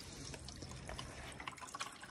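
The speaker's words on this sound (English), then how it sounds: "Okay, so water is coming from here into there." Water flows from one roof storage tank into another at a tiny house cabin, a faint, steady trickling with small drips and gurgles, fairly quiet and continuous, with no voices.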